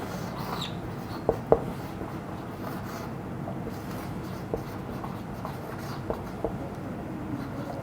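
Chalk or marker writing on a board during a physics lecture, a steady scratchy scrawl with a few sharp taps as strokes begin, heard close over a low room hum with no talk.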